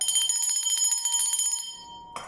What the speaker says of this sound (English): ring the bell again to keep the energies clear and any dark force energies dissipated from this message